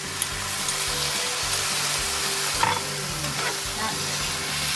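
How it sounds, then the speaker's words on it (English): Pre-made Mongolian beef sauce being stirred in a very hot pan, a loud close sizzle and bubbling hiss with scraping stirs and a few sharper clinks, no voices. "you want to stir that sauce that you pre-made"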